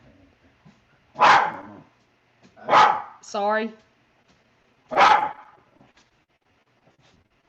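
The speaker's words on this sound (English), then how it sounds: "You hear that dog again?" A dog barks three loud, separate times with a short whimpering yelp between, indoors in a home, while a person speaks briefly.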